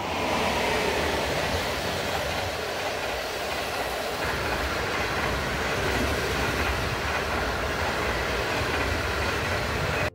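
Passenger train on the Qinghai-Tibet Railway pulling out near Golmud, a steady loud rumble of wheels and carriages with faint rhythmic clatter, continuous and close throughout, no voices.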